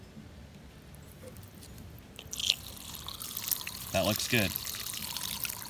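Water flows out of a rain barrel valve in faint, uneven splashes and trickles that build after a quiet start, with someone briefly speaking.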